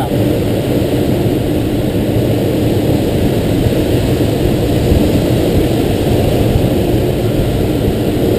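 Light propeller plane engine in flight, heard from inside the cockpit as a loud, steady, continuous drone with no pauses.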